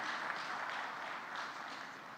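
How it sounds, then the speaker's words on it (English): Applause from an audience after a plenary session at a conference: a steady, dense wash of many hands clapping, fairly faint and distant, holding evenly throughout without talk. "let us have a huge round of applause for the wonderful session."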